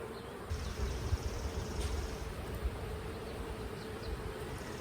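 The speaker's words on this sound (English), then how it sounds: "There's definitely a lot more bees hanging around me" Honeybees buzzing steadily and close by around a hive, a dense continuous drone with individual bees flitting past, no voices.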